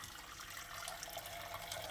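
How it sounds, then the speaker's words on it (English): Hot water from a kettle pours in a steady, faint stream into a pan in a home kitchen, giving a continuous bright splashing trickle with no breaks. "I am also going to put the water from the kettle into a pan"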